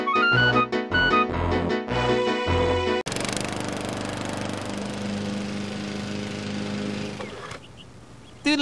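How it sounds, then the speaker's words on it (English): After a short musical jingle, a lawn mower engine from the 1997 Simpsons video game Virtual Springfield drones loudly and steadily for several seconds, then cuts off. "How's the mowing going? Can't talk, mowing."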